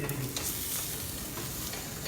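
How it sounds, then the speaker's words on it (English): Steady, dense sizzling of onions frying in olive oil, a continuous crackle with occasional sharper pops, close up and fairly loud. "The beautiful sizzling of the onions."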